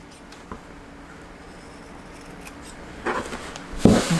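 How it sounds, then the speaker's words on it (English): Scissors trim fabric close to the stitching of a patriotic quilted table topper, giving a few short snipping and rustling cuts that grow louder toward the end, with quiet pauses between them. "don't cut the stitching, just trim right next to it."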